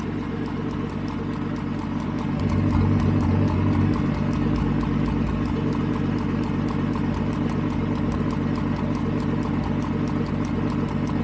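Car engine idling under a Haltech Elite ECU rotational idle (ghost cam) tune, a steady low rumble with a faint uneven lope, getting slightly louder after a couple of seconds and holding steady alone.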